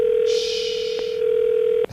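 A phone line's ringback tone plays while a radio morning show calls a contest listener: one steady, continuous electronic tone that sounds close and clear, with no talking, until it cuts off abruptly at the end.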